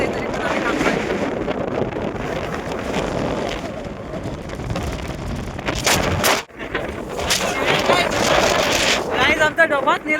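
Strong wind buffets the microphone on a mountain fort, Vishramgad, a loud continuous roar with gusts that swell and briefly drop, while voices talk underneath.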